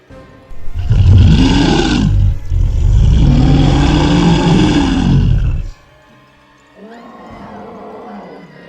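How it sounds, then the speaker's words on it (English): A bear roaring in a dramatized retelling of the 1915 Sankebetsu bear attack in Japan: two loud, deep, rasping roars over about five seconds, followed by a quieter, lower growl. "When the roar came again"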